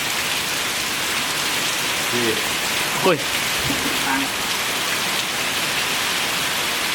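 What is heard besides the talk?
rain falling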